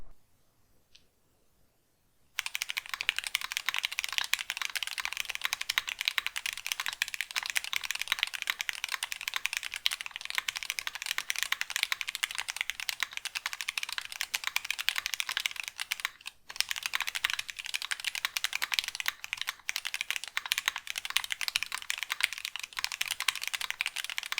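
Steady mechanical keyboard typing on stock Turquoise Tealio switches fills the recording after a quiet opening, with dense, even key clacks that continue without pause.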